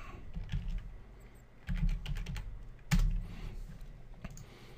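Someone types on a computer keyboard in short bursts of close, crisp key clicks, with brief pauses between groups of keystrokes.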